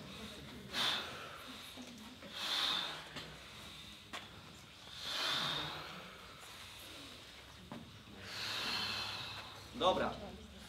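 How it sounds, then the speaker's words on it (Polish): Beatbox breathing exercise: forceful exhalations pushed out with the abdominal muscles, several loud, airy breath bursts spaced a second or two apart, close to the mic with nothing else heard. "Po prostu wyciskamy z siebie powietrze, później robimy to mięśniami brzucha."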